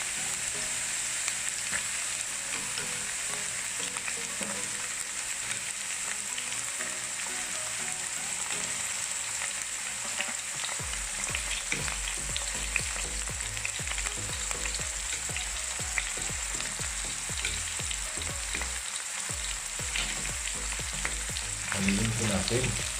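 Onions hit hot oil in a pan for chicken curry, producing a loud, dense, unbroken sizzle that lasts throughout, with a low rumbling crackle joining about halfway and faint utensil taps, no one speaking.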